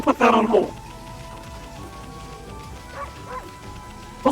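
A dog in the video game Okami gives a burst of sharp yipping barks, then a quieter whimpering stretch under soft background ambience, and a final short bark at the end.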